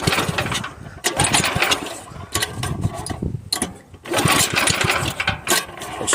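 A Tecumseh small engine running just after a cold start gives a rough, loud, rattling chug with uneven bursts and brief dips, close to the listener.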